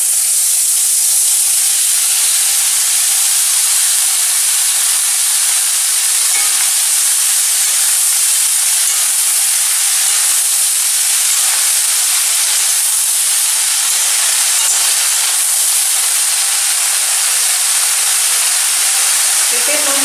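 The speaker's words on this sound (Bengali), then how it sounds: "আমি এবার কেটে রাখা শাপলাগুলো এতে দিয়ে দিচ্ছি।" Loud, steady sizzling and hiss as cut water lilies go into hot tempering oil in a home kitchen while cooking a sour water lily dish with prawns, continuous and close throughout with no break.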